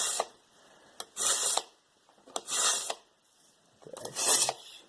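A Walpole 3-stage knife sharpener has a knife blade drawn through its slot in three separate rasping strokes, each a short gritty scrape followed by a pause, close and clear with no talking.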